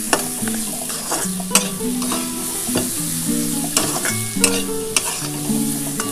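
Vegetable fried rice is stir-fried in a pan without oil, giving a constant dry sizzle broken by repeated sharp clanks and scrapes of the spatula against the metal, loud and close.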